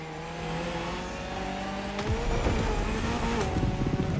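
Race cars in the video game The Crew Motorfest, engines droning and then revving harder with a passing roar and squealing tires, loud and close, no talk.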